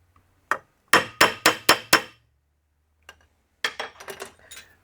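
A hammer strikes rivets on a drive pulley clutch disc, peening them over in sharp metallic blows, first a single tap, then a quick run of five evenly spaced hits, and later a cluster of lighter taps, close and loud.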